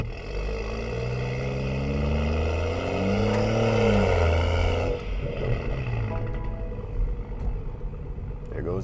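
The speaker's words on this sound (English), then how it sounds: "that turbo spool, that's one of the things I love the most" A BMW 440i with a catless downpipe revs and spools its turbo, a loud rising engine drone with climbing whine tones, then easing off into a lower rumble as a voice talks over it.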